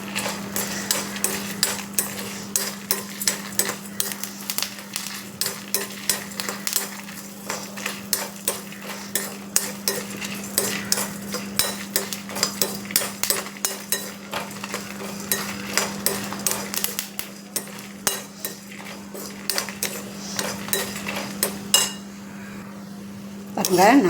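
Coriander seeds, chillies and curry leaves are dry-roasted in a pan for jackfruit seed rasam, with a spatula repeatedly scraping and clinking against the metal in a quick, uneven rhythm over a steady low hum.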